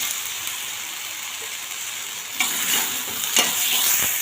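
Steady sizzling of tomatoes dropped into hot oil with dry red chillies for a Kannada-style leafy greens curry, with scraping stir sounds and a few sharper bursts of crackle toward the end.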